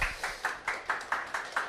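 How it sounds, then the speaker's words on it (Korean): An audience at a KICPA accounting exam information session applauds the instructors, heard as eight evenly spaced claps in a steady rhythm, fairly faint and with no talk over them. "다시 한번 강사분들께 박수 한번 부탁드리도록 하겠습니다"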